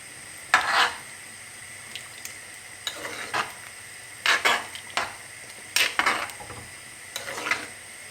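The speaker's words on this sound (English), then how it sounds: "Then we add the carrots and potatoes." Chopped carrots and potatoes are tipped into a pot of Filipino beef caldereta and stirred, giving several short scraping, clattering bursts with a soft sizzle between them.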